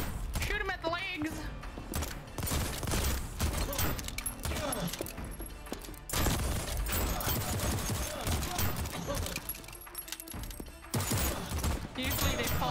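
Gunfire in the game Voidtrain crackles in quick repeated bursts amid clattering action sounds, with people talking over it throughout.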